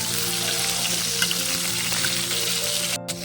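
Freshly washed vegetables frying in oil, a continuous crackling sizzle with scattered sharp spatters and pops from the water, close and fairly loud.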